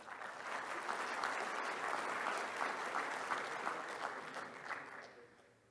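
Sustained audience applause at an awards ceremony, a dense steady wash of many hands clapping that holds evenly for several seconds before fading near the end.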